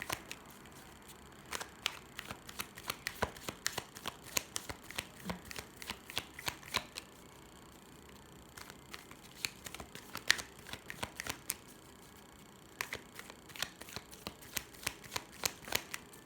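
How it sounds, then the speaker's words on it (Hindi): Tarot cards are shuffled in quiet, intermittent bursts of soft riffling and flicking, close up and faint, with short pauses between rounds and no talking. "मैं शफल कर रही हूँ"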